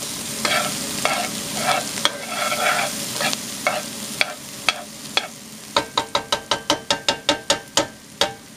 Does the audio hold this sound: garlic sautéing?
yes